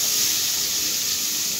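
Steady, close sizzling hiss as home-grown onion stalks go into a hot pan with braised meat, frying continuously without pause.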